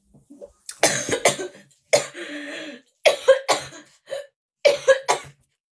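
Someone coughs several times in short bursts with brief pauses between them, close and alone, with a bit of throat clearing.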